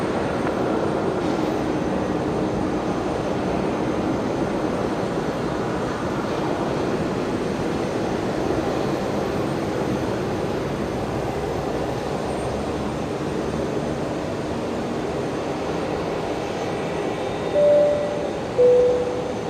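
An Air New Zealand jet departing runway 01 at Brisbane Airport, a broad steady engine roar heard from a distance throughout, with brief louder bumps near the end.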